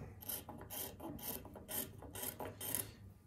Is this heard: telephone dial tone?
no